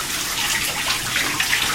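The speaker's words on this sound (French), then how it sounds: "Bon, on va faire ça dans la douche. Là, vous allez me détecter l'eau avant de la diriger vers vous." Shower water running hard, a close, steady hissing spray with splashy fluctuations and no talk over it.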